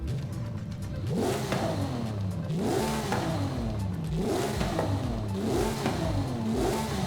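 A Porsche 911 with turbocharging revs repeatedly, its engine note climbing and dropping in regular surges with a faint whooshing turbo hiss over a steady, fairly close drone.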